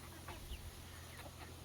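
Backyard hens cluck softly in short, scattered bursts while chasing young chickens around, faint against a low steady background hum.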